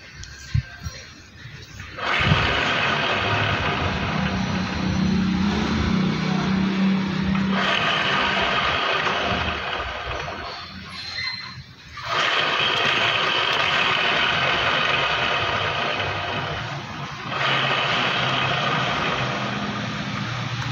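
Scooter wheel spun by hand with a worn, noisy transmission bearing, giving a steady grinding whir that runs in long bursts with brief pauses between spins.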